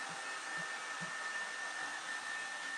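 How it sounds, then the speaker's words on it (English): A hair dryer on a slow setting blows with a steady, even whoosh and whine throughout, close by, with a few faint low thumps underneath during a home haircut. "So I like a slow dryer because of this part."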